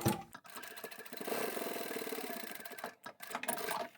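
A sewing machine top stitches fabric pieces for a wallet and card holder, running in a steady mechanical whir with a fast rattle, pausing briefly, then starting again in short bursts.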